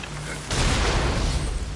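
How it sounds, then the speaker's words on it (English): A cannon fires in the video game Nioh, a sudden heavy boom at about half a second that swells into a dense, rumbling roar and keeps thundering loudly to the end, with no talk. "I just wanted to see what the cannon did."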